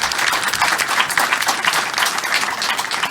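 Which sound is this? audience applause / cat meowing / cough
audience applause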